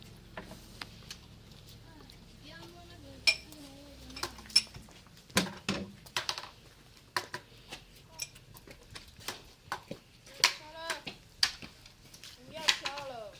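Hard knocks on metal pots and dishes ring out in scattered irregular bursts, near and fairly loud, during a millet harvest festival gathering, with children's voices and chatter around them.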